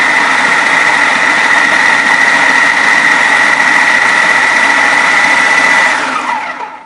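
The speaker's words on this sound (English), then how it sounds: "we're going to pop this in the food processor" A food processor blends salsa ingredients for game-day dips, its motor giving a loud, steady whirring drone that runs continuously for several seconds and then winds down at the end.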